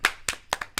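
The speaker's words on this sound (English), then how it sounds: "Give us a round of applause." Hands clap sharply and close by, five crisp separate claps in an uneven rhythm, loud against a quiet room with no talk.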